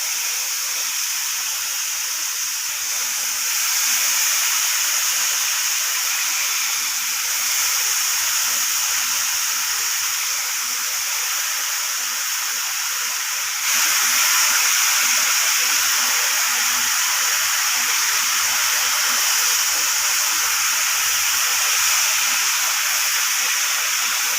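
Ridge gourd frying in a hot pan, a steady sizzling hiss that runs on at an even level and grows slightly louder partway through.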